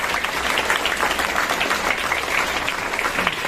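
An audience at an event in an English-medium school in Bhusawal claps steadily in full, even applause lasting a few seconds with no break.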